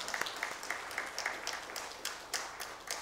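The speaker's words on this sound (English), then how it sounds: "Please give him a big applause." An audience at an orthopaedic symposium gives a guest speaker a round of applause: light, scattered claps that are fairly faint and distant, with a few sharper claps standing out over a soft room murmur.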